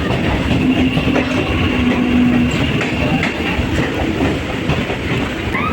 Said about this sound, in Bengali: ট্রেন ঢুকে পড়ছে বিনয় বাদল দীনেশ বাগ স্টেশন, মানে বিবাদীবাগ স্টেশন